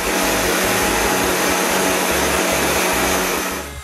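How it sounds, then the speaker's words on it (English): Linear sander with a pool noodle pad sanding saw marks on wood for shop doors, a loud steady close buzzing hiss with a pulsing low rumble that runs throughout and tapers off at the end. "The saw marks are sanded with a piece of a pool noodle attached to a linear sander."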